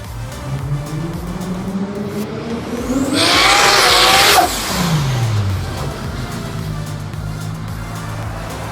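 A 1991–2000 Lexus SC300 coupe with a Toyota 3-liter straight-six passes close by, its engine rising in pitch as it approaches, peaking loudly with a tire squeal, then dropping away as it recedes.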